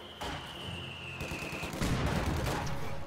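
Conscripts fire on flamethrower troops at a munitions point in a real-time strategy battle, with rapid rifle and machine-gun bursts rattling steadily and a high tone fading out early.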